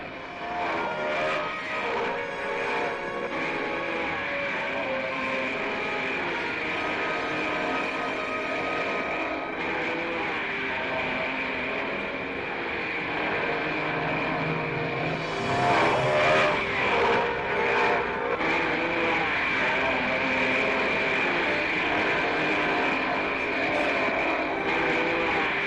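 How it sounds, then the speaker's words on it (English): Mercedes and Lancia Formula 1 race cars from 1955 roar through the opening lap of the Argentine Grand Prix, a continuous, distant-sounding wash of high-revving engines that swells noticeably midway through. "4th place behind Fangio, Ascari and Gonzalez as they power through the opening lap."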